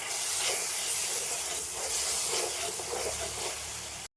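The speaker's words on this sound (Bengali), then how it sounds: "মশলাগুলো হালকা একটু জল দিয়ে মশলাগুলোকে কষিয়ে নেব" Masala frying with a splash of water for dry fish curry gives a loud, steady close hiss and sputter that runs throughout, then cuts off abruptly at the end.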